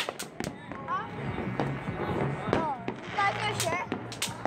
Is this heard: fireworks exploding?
yes